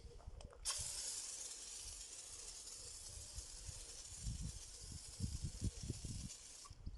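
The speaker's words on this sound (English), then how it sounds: "We're going to give this a few pumps." A handheld pump sprayer for snow foam is pumped several times, giving short repeated hollow plastic strokes and squeaks near the mic over a steady hiss with no talk.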